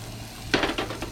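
Chicken cooks on a grill at a roadside campsite. After a quiet half-second, sizzling bursts out in a few crackling, uneven pulses, close by and fairly loud.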